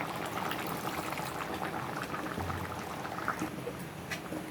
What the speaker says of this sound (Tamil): இப்போ கொஞ்சம் புளி ஊற்றிடலாம்.